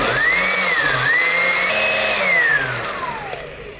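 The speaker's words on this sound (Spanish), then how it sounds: "Y encendemos la licuadora." A kitchen blender running while making a children's drink with orange juice, its motor whining loud and close with the pitch rising and dipping as the contents churn, then slowly winding down.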